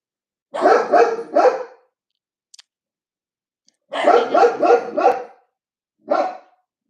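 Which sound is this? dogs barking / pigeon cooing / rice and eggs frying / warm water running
dogs barking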